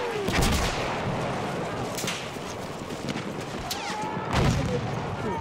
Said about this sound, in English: what a bombing strike!